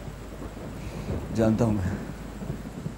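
A thunderstorm with rain: a low rolling rumble of thunder swells over a steady wash of rain, while a voice speaks briefly on top.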